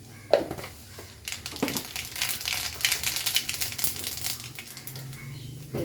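Mustard seeds splutter and pop in hot, freshly pressed coconut oil in a home kitchen. Dense, crackling bursts come close and fairly loud, starting sharply and continuing steadily across the stretch with no speech.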